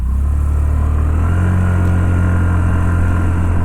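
Honda Activa 125 scooter pulling away at full throttle, a loud steady engine drone close to the listener that rises slightly in pitch as it accelerates, with no talk over it.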